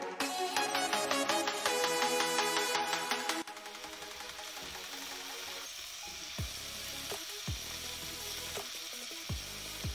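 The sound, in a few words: onions frying and being stirred in a pan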